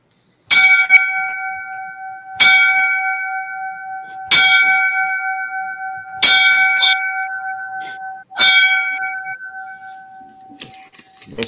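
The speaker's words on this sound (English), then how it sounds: "we're going to give him the five bells for a line of duty death" Five bell strikes for a firefighter's line of duty death ring out loud and close, evenly spaced about two seconds apart, each clear metallic tone decaying slowly into silence before the next.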